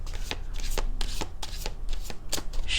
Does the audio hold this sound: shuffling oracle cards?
yes